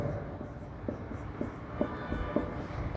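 Chalk tapping and scratching as a chemistry teacher writes on a classroom board, a series of short faint clicks and strokes over a steady background hum.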